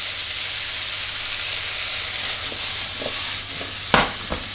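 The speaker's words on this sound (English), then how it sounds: "we're going to drop the shallots, the Brussels sprouts into the pan. We're just going to slowly toss them off in the butter" Brussels sprouts and shallots tossed in melted butter in a pan: a steady, close sizzle and hiss throughout, with a few soft stirring scrapes and a sharper clink near the end.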